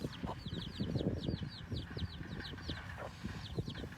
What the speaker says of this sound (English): the hen will scratch around, cluck to the chicks